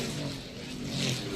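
NASCAR race car engine at the 2018 First Data 500, failing and laying down, its steady droning tone shifting in pitch as it keeps running; loud continuous engine noise with no talk.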